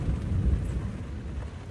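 A low, rolling rumble of thunder during a thunderstorm at a truck campsite, a steady dull roar that swells early and then eases.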